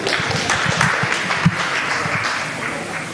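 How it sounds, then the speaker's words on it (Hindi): An audience in a community hall bursts into steady applause, a broad wash of clapping at fairly close range with a few stronger claps standing out, continuing evenly throughout. "जोरदार तालियां एक बार में"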